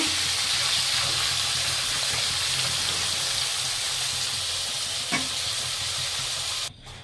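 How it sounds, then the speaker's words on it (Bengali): Potatoes frying in hot oil after eggplant, a steady broadband sizzle and hiss running throughout with no talk, a brief clink near the end before the sound drops off. "এখন আমি আলুটা একটু ফ্রাই করছি।"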